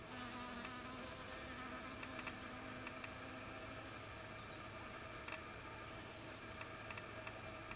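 Bees and other insects buzzing around cucumber flowers, a continuous faint humming drone with small intermittent rises as the insects move close; no voices.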